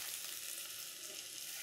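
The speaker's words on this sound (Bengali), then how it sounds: "হয়ে এলো এই ভাজাটা" Vegetables fry in a pan for a lunchtime khichdi and vegetable dish, giving a steady, soft, continuous sizzle with no voices over it.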